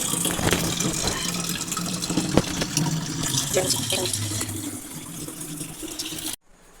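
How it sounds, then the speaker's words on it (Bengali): Water running from a tap into a container, a steady broad gush that continues for several seconds before cutting off abruptly, fairly close with no talk over it. "আমি জল ভরছি"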